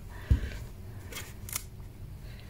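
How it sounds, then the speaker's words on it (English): Scissors snipping the damp edges of a cheap sketchbook page, a sharp close cut near the start followed by faint crisp paper clicks and rustles in a quiet room. "then attack it with scissors"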